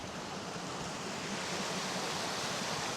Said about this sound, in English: All these waterfalls going down this river, absolutely beautiful.